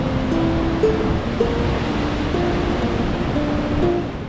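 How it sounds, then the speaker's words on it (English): Ocean waves rolling against the shore and cliff edge of a wave-cut platform at Spray Point, a continuous loud wash of surf with gentle swells and no voices. "the main wave doesn't necessarily hit the edge"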